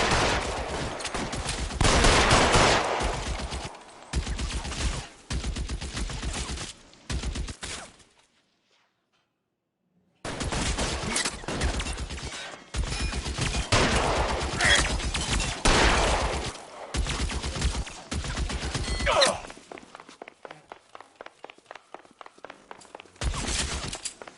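Sustained gunfire in the video game L.A. Noire, loud bursts of repeated shots with rapid fire and occasional footsteps, broken by a short silent gap, then thinner crackling shots toward the end.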